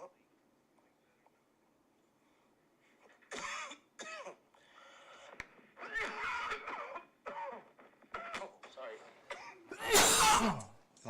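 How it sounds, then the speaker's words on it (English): A person coughs indoors, sharp bursts scattered between talking, with the loudest rough cough near the end. "thinking of coffee made me cough"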